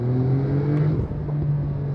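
A 2022 Porsche 911 Targa 4 GTS of the 992 generation revving its engine in sport mode, a loud, steady, deep engine drone with a brief dip and swell midway, heard up close without talk.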